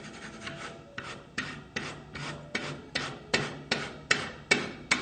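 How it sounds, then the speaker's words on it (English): Felt piano hammers being gang-filed together during voicing on a high-use piano: about a dozen steady, close rasping strokes in an even rhythm, each a bright scratchy rub, with no talking. "this is a gang filing technique that we're doing all of them together."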